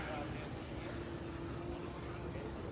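A small drone hovers overhead outside the Arkansas State Capitol during a statue removal protest, its steady engine-like drone and tonal whine continuous and fairly loud, with voices in the crowd beneath it.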